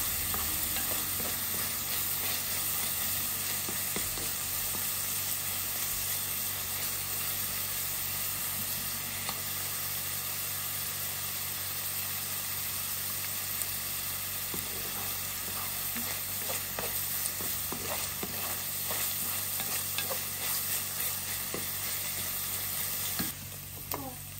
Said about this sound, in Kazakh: Жуаны күйдіріп алмай, қызарғанша қуырып аламыз.